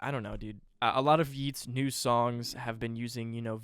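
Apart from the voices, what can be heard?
None of the usual background noises is heard.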